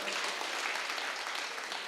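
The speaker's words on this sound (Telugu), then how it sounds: "ఒకసారి ప్రభాకర్ గారి కోసం గట్టి క్లాప్స్ కొడదాం" Audience applause for a man named Prabhakar at a meditation gathering: dense, steady clapping from a crowd that fills the whole moment without a break.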